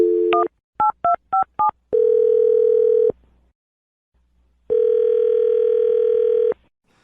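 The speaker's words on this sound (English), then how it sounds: "I'm dialing his phone number right now." A telephone number being dialed: a handful of short, evenly spaced touch-tone beeps, then a steady dial-type tone that stops, a pause, and a second long tone, loud and close with no talking.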